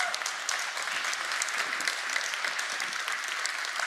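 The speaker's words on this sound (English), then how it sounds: "So let's give them a round of applause." Conference audience applauding steadily for about four seconds, a dense, even wash of clapping heard fairly close, with no voices over it.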